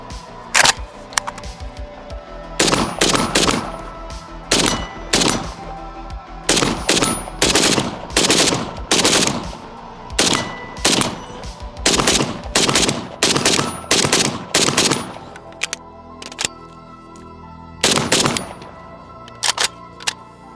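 Budget AK rifle with an East German magazine and extended +5 base plates fires in short, sharp bursts, loud and close, with pauses between strings of rapid shots.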